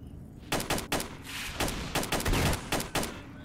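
Rapid burst of shotgun blasts in S.T.A.L.K.E.R. Shadow of Chernobyl, about eight loud, sharp reports in uneven succession with brief gaps, no voices.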